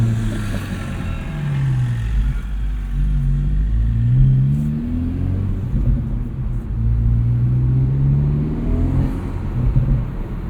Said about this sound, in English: cool turbo noises with the windows down